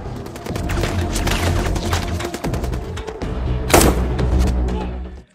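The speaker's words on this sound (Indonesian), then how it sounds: "Sementara yang berhasil menghindar lanjut adu tembak dengan O'Brien dan Bob Lee." A shootout in an action film crackles with rapid gunfire, a dense volley of sharp shots and thumps over a low rumble, with one especially loud blast near the end, no talk over it.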